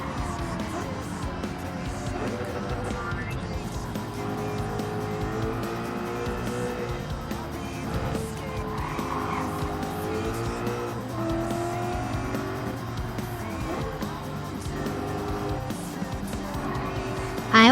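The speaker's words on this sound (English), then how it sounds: "Just a nice relaxing drive in a convertible BMW." A convertible BMW racing in Gran Turismo 7, steady engine drone with rising and falling revs and intermittent tire squeal, continuous and fairly loud throughout, with no talking.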